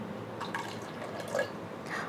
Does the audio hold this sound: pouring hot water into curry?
yes